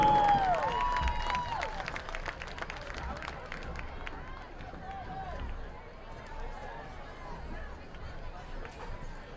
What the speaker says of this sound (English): A big round of applause for the Rhythm of the Ridges Marching Band and the Marching Band from Gordon Lee